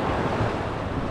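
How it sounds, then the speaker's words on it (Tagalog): Sea waves slosh and wash beside a small boat, a dense rushing surf noise mixed with wind buffeting the microphone, close and continuous. "may alon dito sa tabi."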